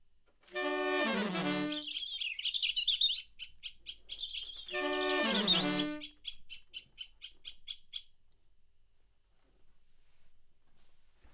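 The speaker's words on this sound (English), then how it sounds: "She was so sad to hear the birds squawk and cry" Two loud bursts of harmonic squawking calls, each followed by a fast series of sharp repeated chirps that fade out, with quiet afterward.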